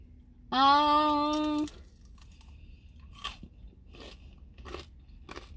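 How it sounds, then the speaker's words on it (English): A brief high whining tone, then several crisp crunches of chewing Buffalo Wild Wings food, spaced roughly a second apart, close and moderately loud against a quiet background. "You hear that crunch?"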